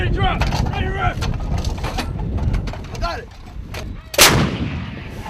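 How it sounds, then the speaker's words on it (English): Live fire from big 155 howitzers at a training base: a sharp, loud boom stands out late over continuous outdoor noise, with a voice talking through much of it. "today is the 7th day of consecutive live fire by these big 155 howitzer"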